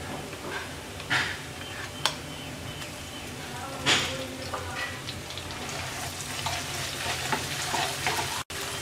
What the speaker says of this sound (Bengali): রসুনটাকে হালকা একটু ভেজে নেব।